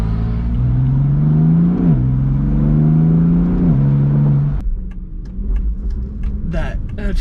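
An Aston Martin V8 Vantage with a single-clutch gearbox revs hard on a mountain road, its engine note climbing, dipping at a shift and climbing again before dropping to a lower rumble, with voices heard over it.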